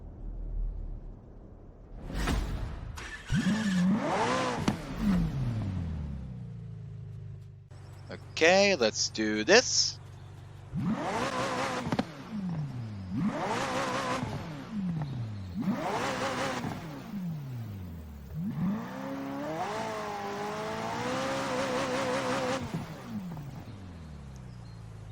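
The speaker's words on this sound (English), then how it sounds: "First, we're going to hear how this engine sounds quick." The engine of a McLaren 12C Coupe in Forza Horizon 4 revs repeatedly in short rising and falling bursts, about half a dozen separate pulls with gaps between them, while someone talks briefly over it.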